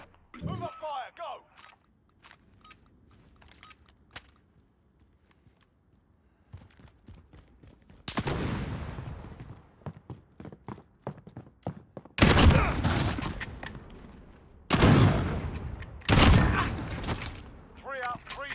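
Gunfire from a sniper video game: several loud, sharp shots with ringing tails arrive in spaced bursts later on, after quieter stretches of small clicks and footstep-like taps, with a player calling out commands.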